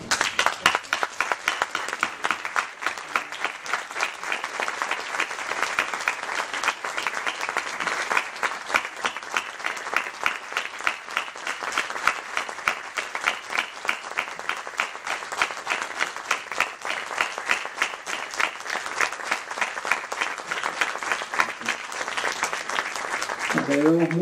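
A memorial tribute audience claps for a long stretch, many hands producing dense, rhythmic applause that stays steady and fairly loud throughout, with a brief voice emerging at the very end.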